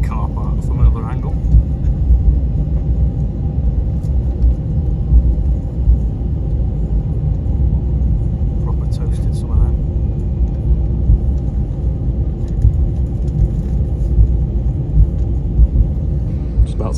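An airplane takes off from Luton, heard as a loud, steady low rumble of engines and cabin noise that lasts throughout, with brief clicks and a voice now and then over it.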